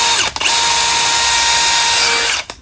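A Milwaukee M18 2904-20 cordless tool running as a drill/driver, suited to concrete walls and driving screws into wood and steel, whines steadily and loud for about two seconds, with a brief dip near the start before it stops.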